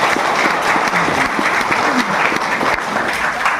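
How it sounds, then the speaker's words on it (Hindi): A crowd at an achiever celebration event claps loudly and continuously, with dense applause filling the hall and faint crowd noise underneath. "तो एक बार जोरदार ताली मेरे गुरु जी के लिए"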